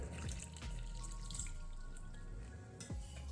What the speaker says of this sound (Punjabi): ਹੁਣ ਇਹਦੇ ਵਿੱਚ ਦੁੱਧ ਪਾ ਦੇਵਾਂਗੇ